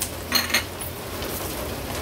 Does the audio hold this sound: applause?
no